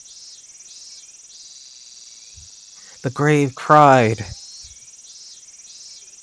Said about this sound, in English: Boy, the cicadas are really...